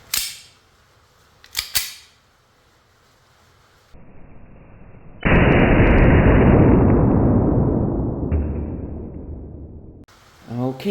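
Blank gun firing 4.5mm steel BBs: a couple of sharp cracks, then a loud, sustained hissing burst lasting several seconds that slowly fades, followed by more short pops.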